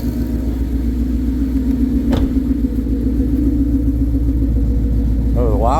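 A 2014 Mustang GT V8 fitted with 1-7/8" longtube headers and a 3" X pipe idles with a steady deep rumble throughout. A brief tick sounds partway, and a voice speaks near the end.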